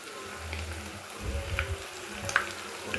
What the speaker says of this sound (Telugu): మనం కలిపి పెట్టుకున్న చికెన్ని ఒక్కొక్కటిగా వేసుకుంటూ డీప్ ఫ్రై మంచిగా ఫ్రై చేసుకోవాలి